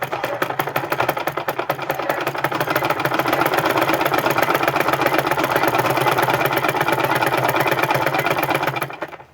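Close, loud sewing machine running steadily for about nine seconds while stitching a men's pants pocket, a rapid uniform mechanical chatter that stops abruptly at the end.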